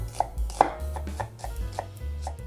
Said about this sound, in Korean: 송송송 썰어서 준비합니다